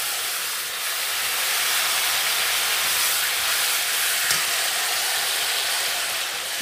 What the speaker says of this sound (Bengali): পাঁচফোড়নটা কিন্তু আমার ফোড়নটা ভাজা হয়ে গেছে। এবার আমি দিয়ে দেব সবজিগুলো।